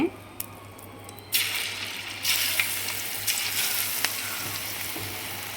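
Steady oil sizzle of deep frying banana stem fritters, loud and continuous, rising in intensity partway through with bursts of crackling and bubbling.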